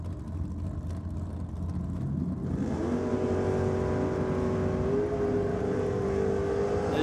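Drag racing cars at Sydney Dragway rumble at first, then one engine revs hard and rises steadily in pitch as it launches down the strip, loud and sustained for several seconds.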